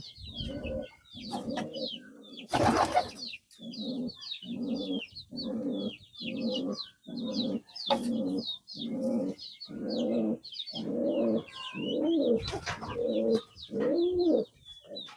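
Lakkha pigeons in a coop coo close by in a steady series of deep, rhythmic coos. Higher chirps from other birds and a couple of sharp broadband bursts sound in the background.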